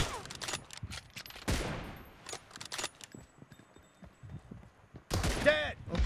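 Gunfire in a BGMI mobile game 1v1 TDM match crackles in sharp, separate bursts, with a louder volley near the start and another near the end, fairly faint overall with quiet gaps between.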